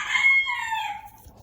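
A Bantam White Crested Chocolate Polish chicken in a pen gives one loud, close, drawn-out crowing call that falls off at the end.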